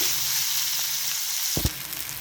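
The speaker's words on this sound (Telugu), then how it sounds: "దీన్ని ఒక 5 మినిట్స్ పాటు ఫ్రై చేసుకోవాలండి." Gobi manchurian cauliflower frying in oil, a steady close hiss and sizzle with a brief stirring clatter partway through.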